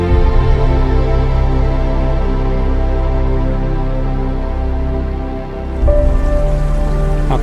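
Steady rain falling at the Vovousa stone bridge in a Greek mountain valley, a continuous close wash of drops over a low rushing background, with a brief dip near the end.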